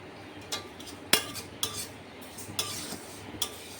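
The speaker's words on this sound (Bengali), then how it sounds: "মুগ ডালটা ফ্রাই করে নিচ্ছি" Mung dal is dry-fried in a pan and stirred with a utensil, producing a series of sharp, close metallic clinks and scrapes spaced roughly every half second over a faint background.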